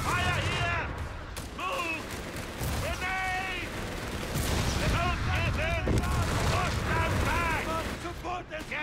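Gunfire and artillery rattle through a Company of Heroes 3 battle, continuous and loud, with shouted soldier voice lines and radio chatter layered over the shooting.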